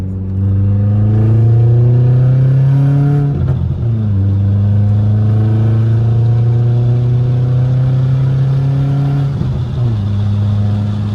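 A 2000s-era Audi A4 1.8T running a catless test pipe and straight-pipe exhaust is held in second gear, its loud, close engine droning and rising with throttle, with two brief dips where revs drop and build again.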